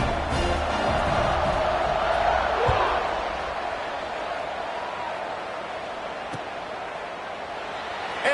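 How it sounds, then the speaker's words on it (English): A football stadium crowd buzzing after a score in a college game, a broad roar that swells loudly at first and then settles into a steady, distant hum, with no talk over it. "this crowd is buzzing after that last score"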